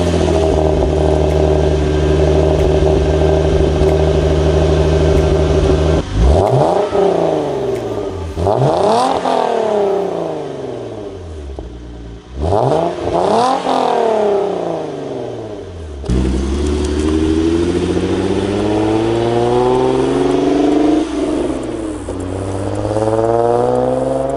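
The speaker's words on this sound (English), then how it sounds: "let me go ahead and start the car up" A Hyundai Genesis Coupe engine idles, then revs up repeatedly in several rising and falling surges before settling back into a steady hum; loud and close.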